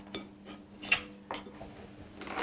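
A spoon scraping and tapping against a bowl while tipping out filling, a few light metallic clinks and scrapes spaced apart, quiet and close.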